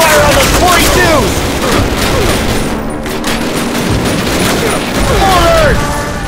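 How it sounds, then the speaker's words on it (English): MG-42 machine gun fire in the Call of Duty video game crackles in rapid, dense bursts amid distant booms and whistling, loud and continuous throughout a chaotic battle. "MG-42s, hit the dirt! Get suppressing fire on those 42s!"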